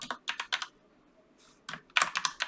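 Quick bursts of computer keyboard typing as a short project name is entered, clustered keystrokes with a brief pause in the middle, close and moderately quiet with no talking.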